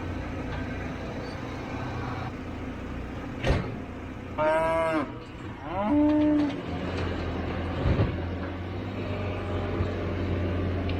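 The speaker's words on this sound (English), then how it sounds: "He's got a pen full of 65 heifer, and he's looking at the old cows across the fence." Heifers and old cows in a pen moo several times, loud and close, two drawn-out calls standing out over a constant low rumble of background noise.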